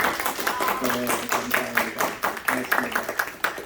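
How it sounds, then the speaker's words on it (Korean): A church congregation claps together in a steady, rhythmic patter while a voice speaks over the applause throughout. "우리 박수 한번 할까요?"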